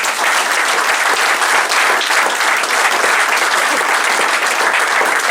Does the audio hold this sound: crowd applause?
yes